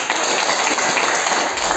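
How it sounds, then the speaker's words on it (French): An audience at a talk on sleep management applauds, a dense, even wash of clapping at moderate level from start to end. "Ok, je pense que nous allons applaudir quand même pour."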